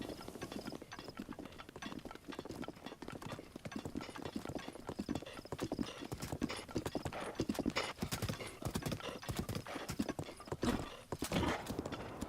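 A steady, rapid clip-clop of a horse galloping in Breath of the Wild, hoofbeats drumming continuously and evenly for a long stretch with no voices over them.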